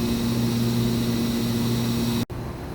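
A 2013 Mazak HCN 4000-III horizontal machining center spindle spinning at its maximum 14,000 RPM under light load, a steady loud whine with strong tonal hum that cuts off abruptly near the end.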